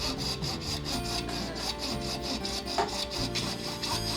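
A guitar nut blank is sanded by hand, its steady back-and-forth rubbing strokes scratching along continuously at close range with no voices.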